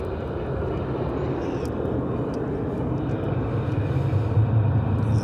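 An American Airlines jet arriving from Narita touches down at Dallas/Fort Worth, a steady broad engine and runway roar heard from a distance, building slightly toward the end.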